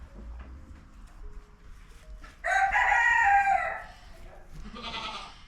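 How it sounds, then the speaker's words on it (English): A rooster on a fiber farm crows once, loud and close, in a single long call lasting about a second, with quieter farm sounds from the goats and chickens around it before and after. "She also has chickens, of course."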